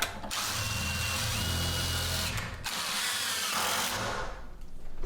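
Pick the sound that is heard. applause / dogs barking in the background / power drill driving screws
power drill driving screws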